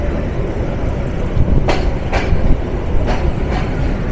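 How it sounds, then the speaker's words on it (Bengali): The Mohua commuter train pulls out of Dhaka Airport station at night, a loud continuous rumble of rolling stock with a few sharp metallic clacks standing out, no voices. "মহুয়া কমিউটার ট্রেন নিয়ে বিমানবন্দর স্টেশন ছেড়ে যাচ্ছি আমাদের পরবর্তী যাত্রা বিরতি স্টেশনের উদ্দেশ্যে"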